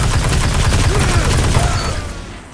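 Hard Light energy weapon firing in a Destiny Crucible match, rapid sustained automatic bursts with a sharp, buzzing rhythm that tapers off near the end.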